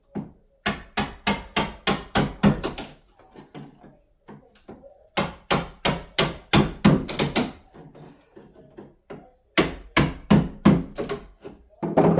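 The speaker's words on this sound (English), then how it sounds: "I'm going to have to be careful when I go through with the chisel at this side to make sure I don't go through the boarding." Chisel and hammer work on wooden stair boarding nailed in place: rapid bursts of sharp knocks in clusters separated by short pauses, loud and close, with no one talking.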